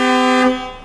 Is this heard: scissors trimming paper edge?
no